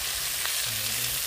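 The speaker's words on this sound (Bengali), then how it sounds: "ইলিশ মাছ ভাজা দিয়ে খুদের ভাত খাওয়ার জন্য মাছগুলো একটু কড়া করে ভাজতে হয়" Hilsa fish pieces frying until crisp in hot oil in a home kitchen, giving a steady close sizzle with faint low hum underneath and no talking.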